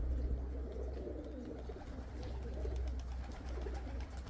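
A large flock of white pigeons, soft cooing and bird calls over a steady low rumble of wind or traffic, with faint wing flutters, no talk.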